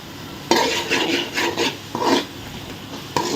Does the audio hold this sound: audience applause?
no